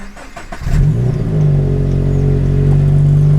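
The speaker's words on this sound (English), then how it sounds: "let me just start the car" A car engine cranks and catches, then settles into a steady, loud idle hum close by.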